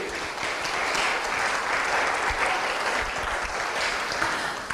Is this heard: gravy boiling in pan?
no